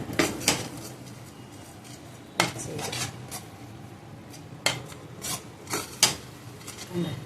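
A sticky snack mixture with cardamom is stirred in a pan, producing repeated scraping and clanking of a spoon against metal in irregular bursts, close and fairly loud.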